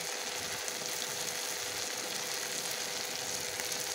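Chicken sautéing with spices in a pan gives a dense, even sizzle that runs at a constant loud level throughout, close-up and uninterrupted, with no talking.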